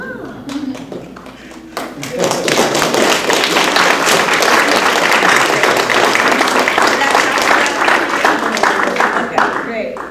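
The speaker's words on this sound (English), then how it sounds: "Let's give them a nice round of applause." Audience applause at a TEDx talk, a full room clapping loudly and steadily for several seconds after a quieter opening.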